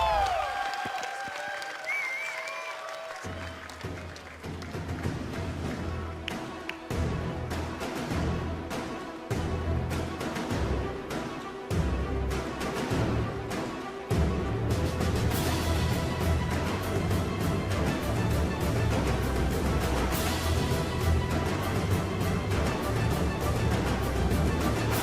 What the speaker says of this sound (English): Oh, that's crowd.